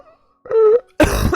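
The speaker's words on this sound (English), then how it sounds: "that cough was not part of it" A single harsh cough bursts out after a short strained vocal noise, loud and close to the microphone, with a quiet pause between them.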